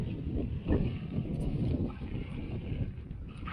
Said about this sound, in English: So the wind is blowing like crazy.